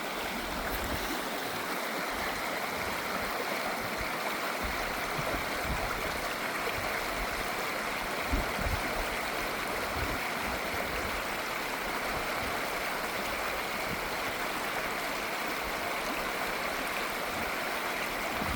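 The North Fork River pours steadily over rocks at Dawt Mill, a loud, close, continuous rushing wash of water that stays constant throughout with no voices.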